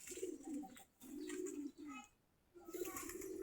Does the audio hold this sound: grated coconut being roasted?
no